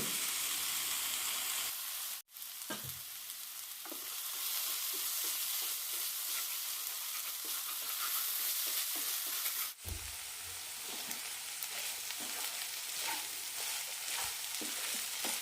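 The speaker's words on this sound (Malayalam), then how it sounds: "നന്നായി ഉലർത്തിയെടുക്കാം" Chicken and cabbage stir-fry with garam masala sizzles steadily in a pan, with frequent scraping and stirring clatters from the utensil and a couple of sharper knocks, close up and without voices.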